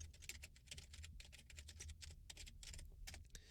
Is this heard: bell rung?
no